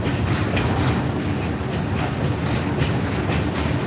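A train rolling along the railway track at Nirmali station, close and loud, a continuous rumble carrying steady clickety-clack wheel beats throughout.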